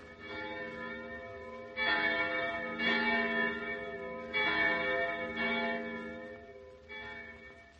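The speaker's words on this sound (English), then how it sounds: "The sounds of those church bells make me feel like praying" Church bells ring in slow, overlapping peals, rich and resonant, with several strikes swelling and fading over a steady ringing tone.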